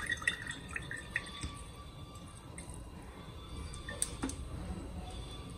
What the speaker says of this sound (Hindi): ये मेरे किचन गार्डन के छोटे छोटे नींबू हैं, ऑरेंज वाले, जो नारंगी नींबू होते हैं। इनको मैं निचोड़ कर डालूंगी।